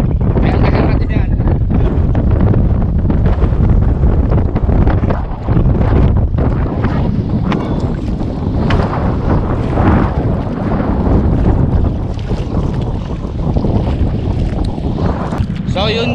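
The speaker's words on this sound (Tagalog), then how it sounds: "Kahit medyo lakas ang hangin, kaya tagal natin yan." Strong wind buffets the microphone in loud, continuous roaring gusts, with a boat engine and water noise mixed in and a voice talking underneath.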